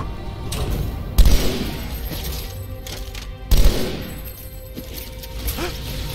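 Turret gunfire in Halo 2 on Legendary difficulty: two heavy, booming bursts about two seconds apart, standing out above a busy layer of combat noise and smaller impacts.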